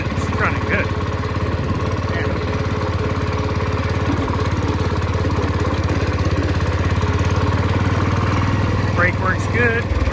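A Cub Cadet lawn tractor engine runs steadily and loudly close by, a continuous rumbling drone with faint talk over it.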